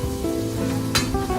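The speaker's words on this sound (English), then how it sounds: "Chicken frying in olive oil" Chicken pieces frying in olive oil for paella mixta, a steady close sizzle with soft stirring clinks and a brief louder hiss burst near the end.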